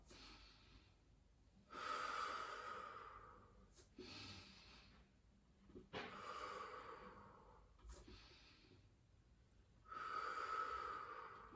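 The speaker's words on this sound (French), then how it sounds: "vous inspirez quand vous montez et vous soufflez à la descente" Slow breathing during a calf-raise exercise: long breaths in and out alternate in a steady cycle of roughly two seconds each, close and soft, with no talking.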